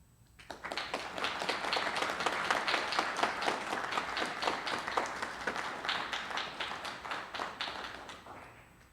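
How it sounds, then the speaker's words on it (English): A room full of guests at a military academy senior ring dinner gives the class of 2021 a round of applause, dense steady clapping that swells quickly and fades near the end. "let's give a round of applause to these fine young men"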